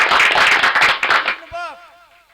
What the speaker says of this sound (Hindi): एक बार तालियों के साथ आप लोग अभिनंदन करेंगे सत्यम तिवारी जी का